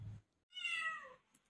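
A cat gives one short, rising-and-falling meow, close by but fairly quiet, preceded by a brief low thump and followed by silence.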